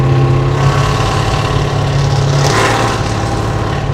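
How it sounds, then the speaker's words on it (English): A roughly 400-horsepower small-block V8 in a hot rod squarebody truck idles steadily up close with a deep, even rumble, alone without talk. "It's probably 400 horsepower small block at the crank, so it sounds way faster than it is."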